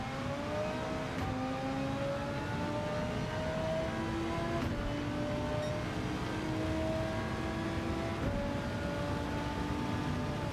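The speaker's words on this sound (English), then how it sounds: "Braking on the 150. Porsche coming up the inside." Racing video game with Porsche and Subaru race cars in tricky conditions, engines droning steadily with rising and falling pitch as gears shift, continuous and fairly loud throughout, no talking.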